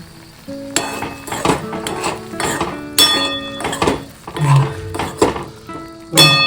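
A Konkan-style fish curry stirred in a metal pot, with repeated loud clinks and scrapes of a spoon against the sides in an uneven rhythm over a faint bubbling sizzle.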